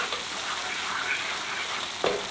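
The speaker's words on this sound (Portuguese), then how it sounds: "Vamos mexendo sempre para não estourar, se não agarra ao fundo da sertã ou da frigideira" Fish in sauce sizzling and bubbling in a frying pan while being stirred, a steady soft crackle with faint scraping and one brief clack near the end.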